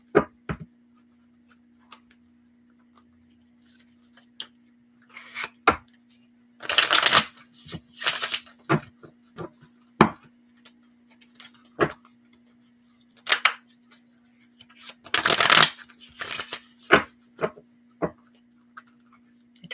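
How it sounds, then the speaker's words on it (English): A deck of tarot cards is shuffled and cut by hand, giving close bursts of riffling flutter separated by quiet gaps and single taps and slaps of cards, with a faint steady hum underneath and brief talk. "So I'm just going to cut up the cards."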